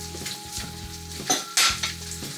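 Bacon sizzles and fries in a pan for linguini carbonara, with a steady crackle close by and a few scraping stirs of a utensil.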